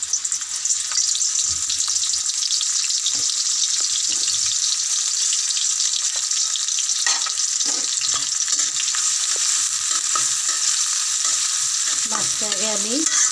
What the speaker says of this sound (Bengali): মাছ কিন্তু কষিয়ে রান্না করতে হবে